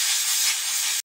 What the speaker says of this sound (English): get some canned air.